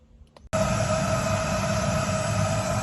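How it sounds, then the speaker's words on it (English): A vacuum cleaner switches on abruptly after a brief quiet moment and drones loudly and steadily with a high whine, close by. "Sorry about the noise everyone, it's my hoover"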